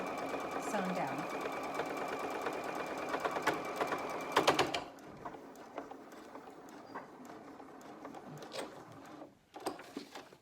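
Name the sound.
sewing machine stitching the hem of a fabric mask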